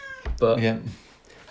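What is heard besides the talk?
cat meowing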